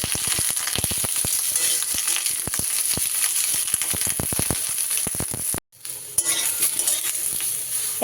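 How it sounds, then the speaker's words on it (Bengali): Eggplant pieces with no salt or turmeric fry in hot oil, loud close sizzling with frequent scraping stir strokes against the pan and one brief silent break partway through. "তেলটা গরম হয়ে গেলে এবার আমি কেটে রাখা বেগুনগুলো দিয়ে দেব"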